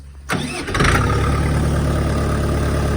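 A Kentavr tractor engine starts up and settles into a steady, loud, close running drone, with a sharp onset about a third of a second in and a rise in level soon after.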